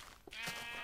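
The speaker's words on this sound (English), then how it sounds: "Oh, sheep." Sheep in Minecraft let out one short, nasal bleat, soft and fairly close, with no talking over it.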